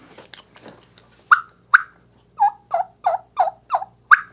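A hunter's turkey call imitates a hen flying down from the roost, a series of loud, sharp yelps and clucks spaced about every half second that build in intensity after a few soft opening notes.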